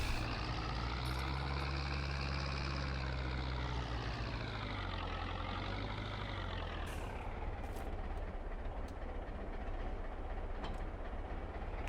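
A tractor in Farming Simulator 22 being parked: a loud, steady engine drone with gliding pitch as it slows and settles, some hissing in the top, running continuously without talk.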